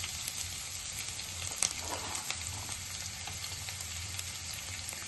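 Green chilli pieces fry in a pan with ginger, giving a soft, steady sizzle and a couple of faint stirring clicks, close and unbroken by speech.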